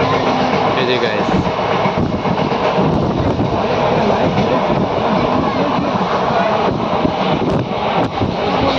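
A passenger train running through hilly country near Navi Mumbai and heading into a tunnel under a hill, a loud continuous rumble with rattling and wind buffeting, steady throughout, with no talk.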